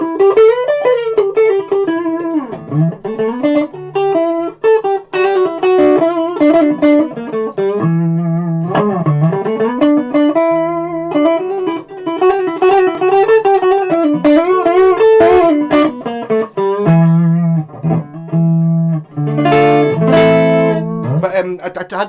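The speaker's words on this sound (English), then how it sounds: "That's going to sound great with distortion." An electric guitar played through its bridge humbucker with distortion rings out in sustained, overdriven notes and short melodic runs, alone and up close.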